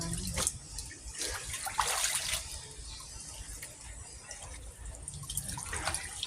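Clothes are hand-scrubbed in a tub of water, with intermittent splashes, sloshing and wet rubbing at a moderate, steady level and no one talking.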